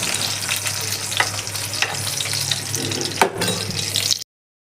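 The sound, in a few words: sausages frying in a pan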